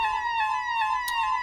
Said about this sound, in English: The sirens went at 3:30